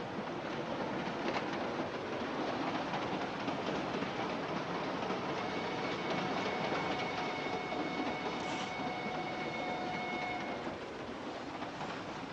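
A train rumbles steadily along the rails with a constant broadband roar and faint rhythmic clatter, continuing without pause throughout.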